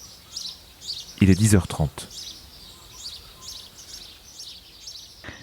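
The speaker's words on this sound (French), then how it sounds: "on entend les oiseaux" Birds chirp faintly in the background outdoors in a farmyard, with short repeated calls, while a person speaks briefly up close.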